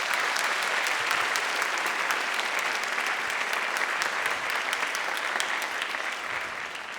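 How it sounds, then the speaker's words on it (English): A large audience applauds steadily and warmly throughout, a dense wash of clapping that tapers slightly toward the end. "So just, again, a warm round of applause."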